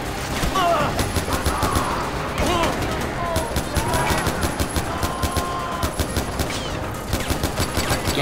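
Rapid video-game gunfire in Far Cry 4, loud repeated shots and bursts firing in quick succession over busy game ambience.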